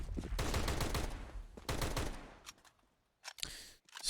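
Pistol fire in Counter-Strike on the Inferno map crackles in rapid bursts of sharp shots, fairly quiet and separated by short pauses.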